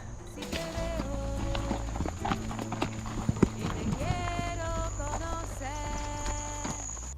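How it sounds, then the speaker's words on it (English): Trail horses walking on a mountain route in Uruguay, their hooves clip-clopping steadily and close, with an occasional soft snort or whinny over a continuous outdoor background. "the horses here are all trail horses, so they obviously know the route pretty well."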